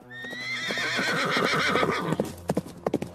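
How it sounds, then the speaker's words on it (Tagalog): A horse neighs loudly in a long rising and falling whinny, followed by clip-clop hoofbeats growing closer, used as a sound effect in a forest story. "may narinig siyang halinghing sa hindi kalayuan at papalapit na iyon"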